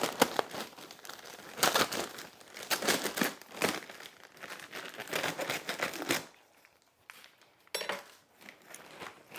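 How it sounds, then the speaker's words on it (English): A plastic bag of perlite is cut open and handled, producing close crinkling and rustling bursts of plastic in an irregular rhythm, growing sparser toward the end. "I'm going to cut open the perlite."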